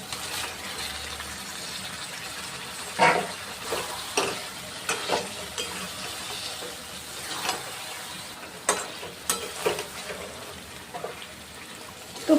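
Fried pointed gourd sizzles in a thick spice masala in a pan, a soft continuous frying hiss under repeated clinks and scrapes of a spatula stirring, with occasional sharper knocks against the pan.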